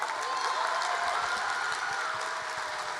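An audience at a slam poetry competition applauding a poet, a dense, steady wash of clapping from a crowd in a hall, lasting throughout with no talk over it.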